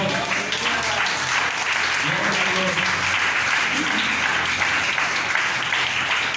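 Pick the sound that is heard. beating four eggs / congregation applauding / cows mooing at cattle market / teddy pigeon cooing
congregation applauding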